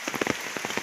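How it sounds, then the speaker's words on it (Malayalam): Rain falls outdoors on surfaces in a brief burst of soft patters and drips, close and fairly faint, with no voices. "മഴയാണ്, മഴ മഴ."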